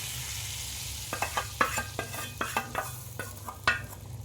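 Hot ghee tadka with Kashmiri chili powder hits cooked whole mung dal, a steady low sizzle that turns after a second into a run of sharp, close crackles and pops spaced irregularly, with no voices.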